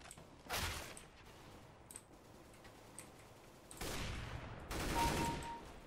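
Bursts of rapid gunfire in the video game CS:GO crackle at a modest level, with two or three separate volleys and quieter gaps between them.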